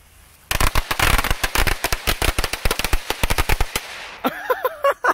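A rapid string of firecrackers pops in a loud, crackling burst lasting several seconds, then stops, followed by a brief tonal sound.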